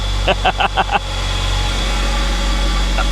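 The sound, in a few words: flooded Mitsubishi Eclipse engine running after starting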